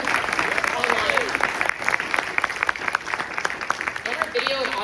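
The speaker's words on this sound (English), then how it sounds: "Round of applause for both of our members who are making it work online." An audience at a panel session of an anti-monopoly summit gives a round of applause, a continuous moderately loud clapping with scattered distinct claps throughout the short stretch.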